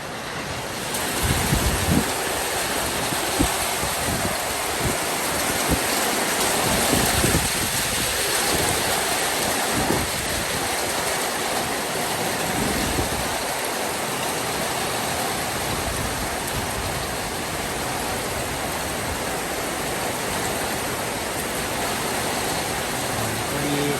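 Steady, loud rain pours down during a storm, forming a dense continuous hiss with gusty wind rushing over it throughout and a few low rumbling bursts early on.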